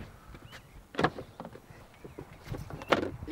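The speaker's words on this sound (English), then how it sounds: "take the suicide door." A subcompact, streamlined mini car's rear-hinged suicide door being handled, with a few sharp clunks and rattles of door hardware close by, a louder thump near the start and another near the end.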